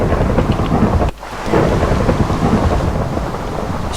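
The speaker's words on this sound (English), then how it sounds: "And it's raining again." Minecraft rain hisses loudly and steadily, broken by a heavy rumble of thunder and a brief dip before the downpour returns, with no one talking.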